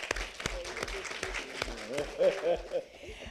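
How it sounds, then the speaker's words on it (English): Applause at a forum on real estate and wealth, a scattering of claps from the audience with a voice speaking loudly over it for much of the time. "Please give him a round of applause, y'all."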